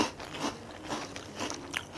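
Crispy dried pollock flavored snack chips are bitten and crunched up close, with repeated crackly bites and chewing in an uneven rhythm and no talking.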